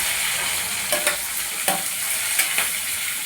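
Dried chillies, capsicum and onion fry in a pan with a steady hiss, broken by a few clinks of a spoon stirring, close up with no talking.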